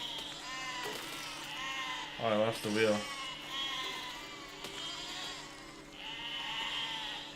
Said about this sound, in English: For now, we're just gonna kill all this sheep here.